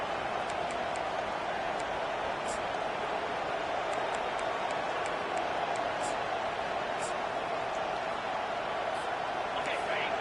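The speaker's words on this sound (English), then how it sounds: "This crowd, full throat, splitting the eardrums" Loud, steady roar of a packed stadium crowd at a college football game, a dense unbroken wash of cheering noise filling the whole stretch, with faint scattered higher shouts poking through.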